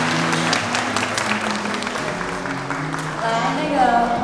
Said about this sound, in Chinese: 来，我们掌声欢迎玉清老师。